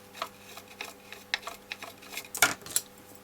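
A toothbrush soaked in isopropyl alcohol scrubs the plastic housing of a Bose SoundDock Series II speaker dock, giving soft irregular scratchy brushing and small clicks and taps, close and quiet with no talking.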